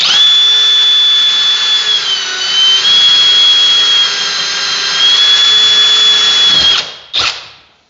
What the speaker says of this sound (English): it's okay that I'm drilling them out